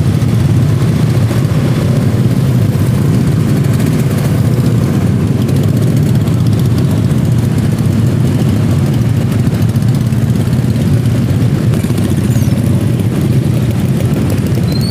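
Idling and creeping engines in a nighttime traffic jam during Eid al-Fitr eve celebrations in Tanjung Uban, with loud open exhausts producing a constant low, heavy rumble that stays steady and close throughout.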